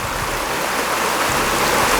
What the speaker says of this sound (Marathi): झरा किंवा याला इंग्लिशमध्ये स्प्रिंग असं म्हणतात